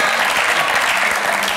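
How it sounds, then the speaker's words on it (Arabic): Dense, continuous applause from a crowd, loud and steady throughout with no pauses. "تصفيق تصفيق تصفيق."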